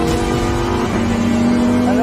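Lamborghini Huracán EVO RWD engine revving hard under load in open surroundings, a loud sustained howl that holds and then climbs in pitch near the end.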